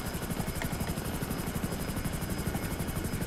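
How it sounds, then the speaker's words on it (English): A fast Hunter attack helicopter in GTA Online flies with a loud, steady rotor chop and whining engine, the rhythmic beating of the blades continuous and close throughout. "It is a pretty fast helicopter when you get it going."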